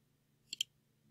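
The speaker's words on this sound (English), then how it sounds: "So last thing is to save by clicking" Two quick mouse clicks on an OK button while saving an Outlook email signature, crisp and close, alone over a faint low hum.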